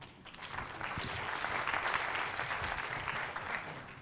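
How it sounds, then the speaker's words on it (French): An audience at the Agile Tour Paris 2017 conference claps steadily, a dense wash of applause that swells slightly and holds, fairly faint and distant. "Je vous demande d'applaudir Open."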